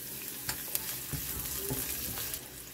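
Ginger and onion sizzle in hot oil in a pan for a chicken soup, with a steady close frying hiss broken by a few light stirring clicks.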